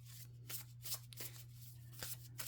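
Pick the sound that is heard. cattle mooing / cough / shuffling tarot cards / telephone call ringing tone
shuffling tarot cards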